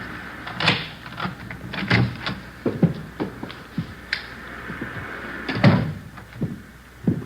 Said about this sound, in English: There's the front door key. See if you can work it. I know how it works. You go ahead and open it.